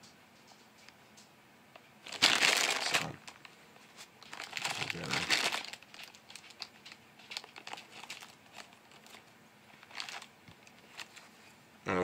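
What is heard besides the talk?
scissors cutting open a Swedish Fish candy bag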